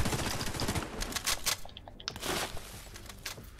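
Gunfire in The Division 2, a rapid run of sharp cracks and rattling bursts at moderate loudness, with a brief lull in the middle before firing resumes.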